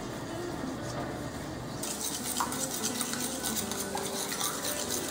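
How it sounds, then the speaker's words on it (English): Sixteen eggs are whisked in a bowl for a Costa Rican brunch, making a quick, continuous rhythmic clatter of whisk against bowl that grows busier partway through. "I'm whisking 16 eggs"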